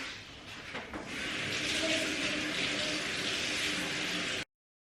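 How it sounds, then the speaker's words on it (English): Water runs steadily from a kitchen tap during handwashing, a continuous close hiss that swells after a second, holds, and then cuts off abruptly near the end. "Just wash my hands."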